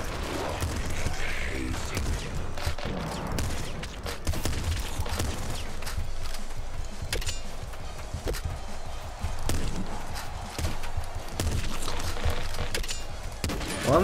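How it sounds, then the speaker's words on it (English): Rapid automatic fire from a heavy crossbow weapon in the video game Nuclear Throne, with dense repeated shots and impacts running continuously and loudly throughout, layered over game music and effects. "So it's the heavy crossbow, but automatic fire."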